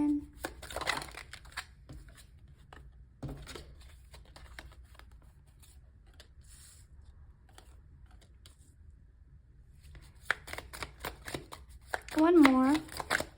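Tarot cards being shuffled and handled, soft papery riffles and flicks in short bursts near the start, middle and end, with someone speaking briefly at the close.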